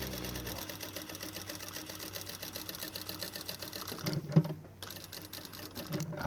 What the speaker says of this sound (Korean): 자, 이렇게 미싱을 박았어요.